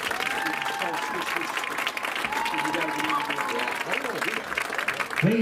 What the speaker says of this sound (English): can we get another round of applause for the members of the 2025 Foxcroft Academy Athletic Hall of Fame?